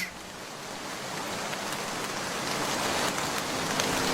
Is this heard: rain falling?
yes